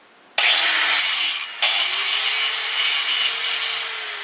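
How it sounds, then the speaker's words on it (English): A metal grinder scuffs the surface of a knife scale, a loud close abrasive whir that starts abruptly, dips for a moment, then runs on steadily with a faint rising motor whine. "I'm going to show you what I was talking about by using a metal grinder here"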